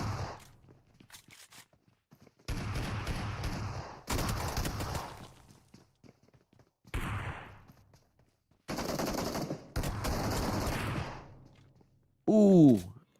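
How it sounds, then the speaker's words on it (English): Bursts of shotgun fire from an S12K in the PUBG Mobile esports finals, several loud blasts with gaps of quiet between them, ending in a sharp whooshing effect, with no talk over them. "Final Boss comes in and what a shot there with that S12K"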